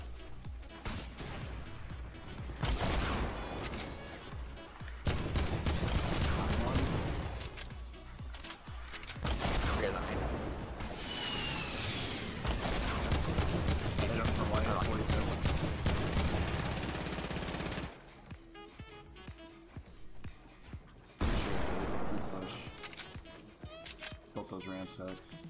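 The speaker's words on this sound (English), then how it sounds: "is someone else shooting us?" Gunfire rings out in a shooting video game, with bursts of rapid shots and single cracks coming and going under excited talk from players.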